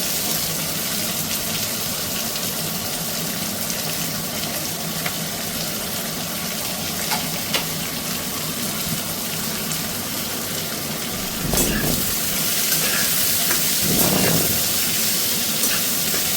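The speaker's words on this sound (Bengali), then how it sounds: "এবার আমি এর মধ্যে পেঁয়াজ কুচিগুলো দিয়ে দিই" Chopped onions hit hot oil with fried green chilies in a pan, giving a loud, continuous hissing sizzle that surges briefly partway through.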